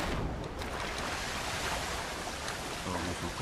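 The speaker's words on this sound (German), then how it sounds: "da bin ich genau da gelandet, wo der Wasserfall ist" A waterfall in the video game Red Dead Redemption 2 pours with a dense, broad rushing roar, steady and loud throughout, with no speech.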